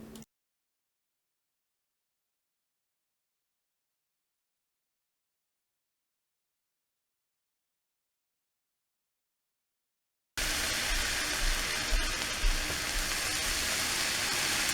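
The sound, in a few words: grilled cheese sizzling in pan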